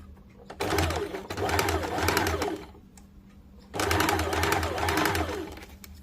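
Sewing machine running stitches along bias-cut churidar fabric, two sustained bursts of motor whir with a short pause between, close and fairly loud, with faint bird cooing in the background.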